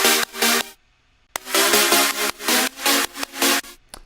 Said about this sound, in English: Now let's listen with the white noise.